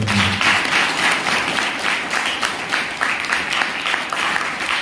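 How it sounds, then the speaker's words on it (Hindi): A church congregation claps to praise God during worship, a loud, dense roll of many hands with a loosely pulsing rhythm that runs without pause and without speech over it. "हालेलुया, ताली बजा के परमेश्वर को"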